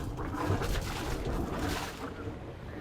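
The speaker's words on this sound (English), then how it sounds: "We started the engine" A sailboat's engine running in harbor just after starting, giving a steady low rumble with some water wash, moderately loud and continuous, and no talk over it.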